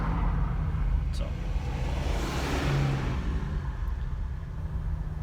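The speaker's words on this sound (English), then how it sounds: "I think that's where all this traffic is coming from" Road traffic backed up near a national park makes a continuous low rumble of car engines, with a vehicle passing and swelling louder midway before the wash settles back to a steady drone.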